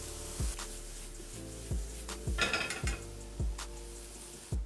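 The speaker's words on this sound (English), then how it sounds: "I'm trying to scratch all the flavor loose onto the onions" A utensil scrapes browned chicken liver bits across a frying pan of sizzling onions, giving roughly six sharp, evenly spaced scraping strokes over a steady low frying hiss, close up with no talk.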